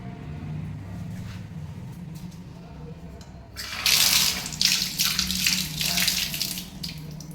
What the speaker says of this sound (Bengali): হাতটা আরেকবার ধুই